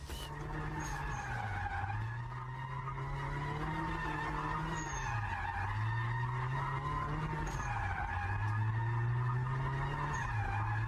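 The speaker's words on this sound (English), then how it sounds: "Now let's take a look at an aerial shot of a drifting masterclass." A drifting car skids through sustained slides, its engine droning and rising and falling in pitch while the tires squeal continuously, loud and steady throughout with no talk.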